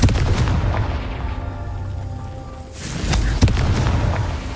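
A Confringo fire spell bursts in Hogwarts Legacy, a heavy booming blast with a sharp crack near the end, set over a continuous rumbling game soundscape.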